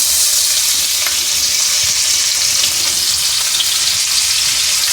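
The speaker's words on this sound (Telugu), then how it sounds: "ఇప్పుడు ఆనియన్ వేసుకుందాము" Onions frying in hot oil for a keema dish give a steady, loud sizzle and crackle that holds evenly throughout, with no voices.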